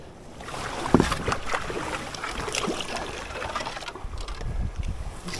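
A packraft moving down a fast-flowing river in northern Sweden, with water splashing and sloshing against the hull and a paddle stroke near the start, close and continuous.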